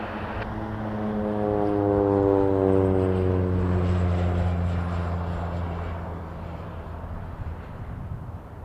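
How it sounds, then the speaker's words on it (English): A small FedEx feeder Cessna propeller plane operated by Morningstar Air Express passes at Toronto Pearson Airport, its droning engine swelling to a loud peak and then slowly fading as it moves off. "Little FedEx Cessna, Morningstar Air Express, FedEx feeder."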